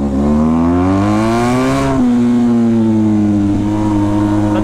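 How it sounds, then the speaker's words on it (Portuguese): A modified car's exhaust roars as the engine revs, loud and close, the pitch climbing steadily, dipping briefly, then holding a sustained high drone. "A zoada é surreal do escape."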